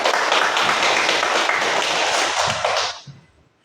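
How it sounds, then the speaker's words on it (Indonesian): Dense, loud applause from a classroom or gathering after a student named Ingrid finishes leading a prayer, steady clapping for about three seconds before fading quickly to quiet. "Kita berikan tepuk tangan buat Ingrid."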